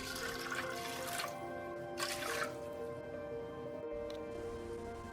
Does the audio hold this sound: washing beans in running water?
yes